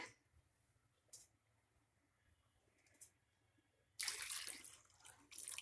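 A few faint drips in near silence, then a sudden stream of water pouring into a pot of lentils, splashing for a couple of seconds.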